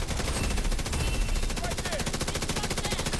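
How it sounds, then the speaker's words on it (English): Rapid automatic gunfire from the player's weapon in The Division 2, a fast, steady stream of close, loud shots running throughout, with a faint voice underneath. "now my gun started firing faster"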